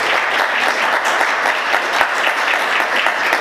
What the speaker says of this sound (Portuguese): Você pode aplaudir Jesus bem forte, queridos?